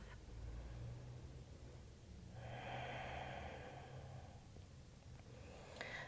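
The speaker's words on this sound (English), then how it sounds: "Just breathe into it. Observe the body, the breath." Slow, deep breaths during a soft yoga flow, a long, soft exhale rising in the middle over a faint low background hum, close and quiet with no talking.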